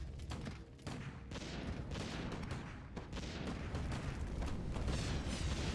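Continuous rumbling blasts and crackling bursts as units explode into pieces in a Warcraft III video game battle, dense and loud throughout with no let-up and no talk.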